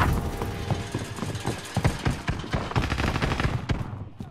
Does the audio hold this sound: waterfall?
no